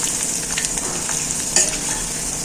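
Cabbage pakoda fry in hot oil, a loud, dense, continuous bubbling sizzle heard up close with a faint clink of a utensil near the middle.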